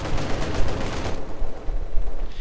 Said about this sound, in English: Maxim's opening up here on the machine gun crew in the house.